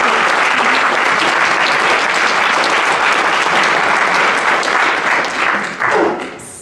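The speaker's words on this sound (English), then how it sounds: "Give yourselves a round of applause." Audience at the Peter Singer Prize ceremony breaks into loud, sustained applause that holds steady for several seconds, then thins out with a few last scattered claps at the end.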